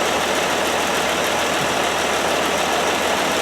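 A close six-cylinder engine in a 1969 Land Rover Series 2a idles steadily and evenly, a continuous rumbling hum with a faint mechanical ticking, no voices.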